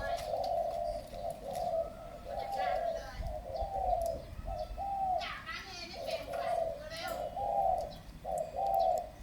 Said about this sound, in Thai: เสียงแบบนี้อ่ะเสียงนกป่าเยอะ